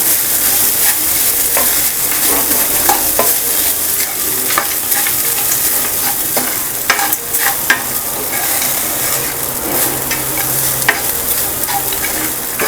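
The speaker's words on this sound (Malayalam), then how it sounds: "ഇനി ഇത് നന്നായിട്ടൊന്ന് മിക്സ് ചെയ്തെടുക്കാം." Poha upma being stirred and mixed in a hot pan, a loud continuous sizzle with frequent scraping and tapping of the spoon, close and steady throughout.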